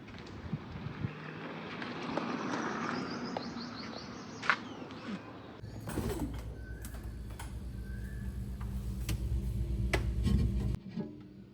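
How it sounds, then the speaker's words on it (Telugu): An Asian koel calls in the background, a few repeated notes over a steady rumbling hum and rasping noise on a farm, with no voices. "మీరు బ్యాక్‌గ్రౌండ్‌లో సౌండ్ విన్నట్లయితే కోయిల కూస్తుంది గదా!"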